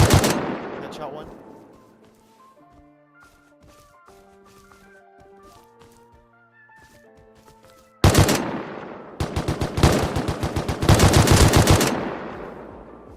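Gunfire rings out in the survival game Rust: an opening volley fades into quiet, then bursts of rapid automatic fire return loud and close near the end, with voices talking over it.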